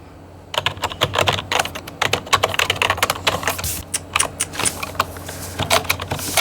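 Rapid, crisp keystrokes clatter on a budget RGB computer keyboard, a close, irregular burst of clicks with a few louder presses standing out, with no voices.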